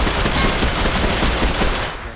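Automatic gunfire in the BGMI mobile battle royale game, a dense, loud, continuous burst of rapid shots filling the short clip with no pause and no talk over it.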